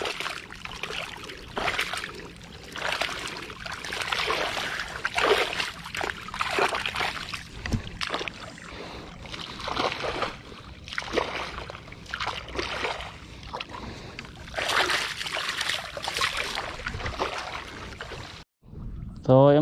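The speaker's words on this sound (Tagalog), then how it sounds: "dinadagdagan ko na lang po ng tubig" Water splashes and trickles steadily as it flows into a wet rice seedbed, with some movement and sloshing throughout and brief talk at the end.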